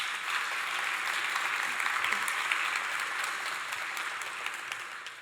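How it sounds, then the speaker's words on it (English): Audience applause at a Python and SQL conference talk: a dense, sustained wash of clapping from a crowd, steady and fairly loud, easing slightly toward the end. "Please give a round of applause."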